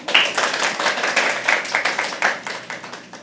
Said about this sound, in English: Can you please have a round of applause for them?